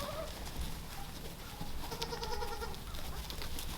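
Goats bleating in a pen on a cold farm, a few short calls rising over steady background noise and rustling, fairly close.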